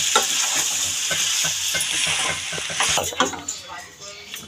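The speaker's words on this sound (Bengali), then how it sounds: "এবার পেঁয়াজ আর মাংসটা দিয়ে দিলাম মশলার মধ্যে, দিয়ে ভালো করে নাড়িয়ে নেব।" Chicken and onions are stirred into masala for bhuna chicken, with loud, close scraping and clattering of a spoon against the pan over a constant frying sizzle.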